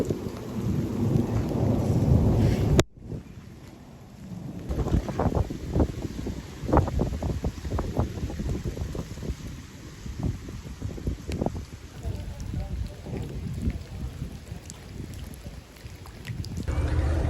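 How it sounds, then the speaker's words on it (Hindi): A steady wash of rain starting after a strong storm, with gusting wind, fills the air, with a dense low rumble and scattered patters throughout. "आहिस्ता आहिस्ता बारिश जो है वो शुरू हो गई है भाईजान। तेज़ तूफ़ान के बाद"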